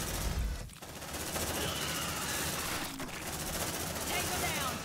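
Sustained automatic suppressive gunfire in the Aliens: Dark Descent video game, a dense, continuous rattle of rapid shots with a brief break near the start, loud and unbroken, with game voices underneath.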